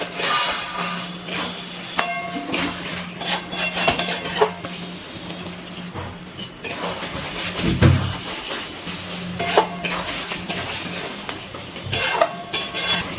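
Chicken being stirred and fried in a pan with cashew, almond and poppy seed paste, a spoon scraping and clinking against the pot over a steady low sizzle, in irregular bursts.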